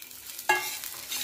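Peanuts and curry leaves roasting on a hot iron tava, a short scrape of stirring followed by a soft dry sizzle, close and quiet with no talk.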